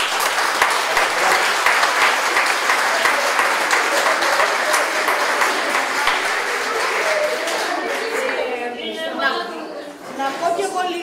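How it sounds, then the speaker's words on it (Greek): Audience applause for children after a school theater performance, dense sustained clapping filling the room before thinning out at the end as chatter and a speaking voice emerge. "να ξεκινήσουμε με ένα χειροκρότημα στα παιδιά"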